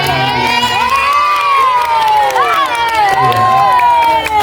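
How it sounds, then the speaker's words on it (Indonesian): Children at a primary school health education session cheer, shout and whoop loudly together, a dense close crowd of high voices filling the whole moment with a little clapping mixed in. "Tepuk tangan."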